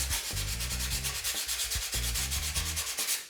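Sandpaper rubs back and forth by hand across a wooden sideboard over a dent, in quick, steady strokes, a loud close-up rasping rhythm.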